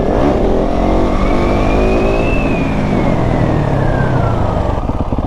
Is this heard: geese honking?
no